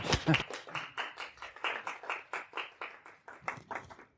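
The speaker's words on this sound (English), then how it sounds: "Everyone applause." A small audience at an evening talk in a Berlin hotel claps, with distinct, rhythmic hand claps from a modest crowd that start strong and then taper off over about four seconds.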